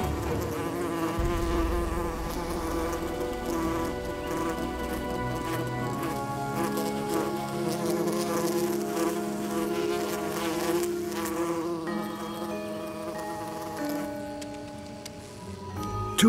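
Wasps buzz in a dense, continuous hum, several insects droning close by at a steady level throughout with no voices over them.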